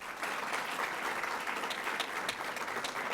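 An audience at a State of the City address breaks into brief, steady applause, an even wash of clapping at moderate volume for a few seconds.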